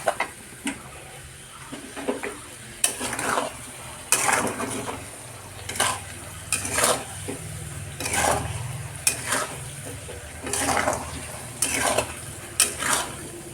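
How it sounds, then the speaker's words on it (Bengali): Mango pickle stirred with sugar in a pan: a spoon scrapes and knocks against the metal at irregular intervals over a steady low hiss, close and fairly loud, with no talking. "এবার একটু নেড়ে চেড়ে নেব আচারের সঙ্গে চিনিটা ভালোভাবে মিশে যাবে"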